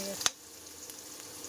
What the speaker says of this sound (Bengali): আর এই আলু ভাজছে